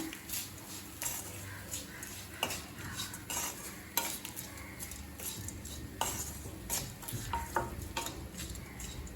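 Grated coconut and salt being lightly sautéed in a pan for coconut rice, with a spoon scraping and clinking in repeated strokes over a faint sizzle, close and fairly quiet.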